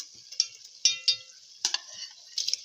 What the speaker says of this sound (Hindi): अब हम इसको तकरीबन 5 मिनट झींगों के साथ भुनेंगे अच्छे से